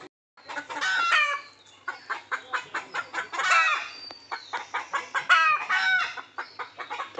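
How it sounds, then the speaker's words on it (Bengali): A hen clucks loudly and repeatedly after laying an egg, close by, with rapid rhythmic cackling bursts and a few longer squawking calls running throughout, and no talking. "তো বন্ধুরা দেখুন মুরগিতে ডিম দেওয়া হয়ে গেছে।"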